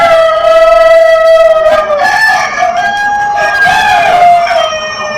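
Roosters crowing on a large free-range hen farm in Pakistan, several loud overlapping cock-a-doodle-doo calls layered close together and filling the whole stretch without any talk.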